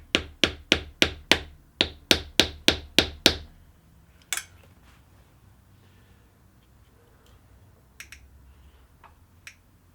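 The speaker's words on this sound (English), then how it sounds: "I'm going to need a hammer just to try and knock it out" Hammer blows knock out a part on a Suzuki GSX-R 750 motorcycle during a rebuild: about ten sharp, rapid strikes in a steady rhythm, then a few isolated taps against a quiet background.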